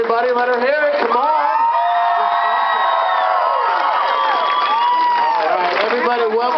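At a Pride Day event, a crowd cheers and applauds for a singer who has just finished the national anthem, with loud whoops, shouts and clapping close by and a voice calling out over the noise.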